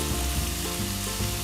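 Instant noodles stir-fried with jaew sauce cook in a pan, giving a steady, close, loud sizzle and bubbling simmer with faint stirring scrapes throughout, no voices.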